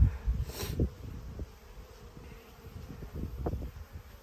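Honeybees hum faintly around an opened hive during an autumn inspection before winter, a soft low buzz with a brief louder pass near the start and small handling knocks, no voices.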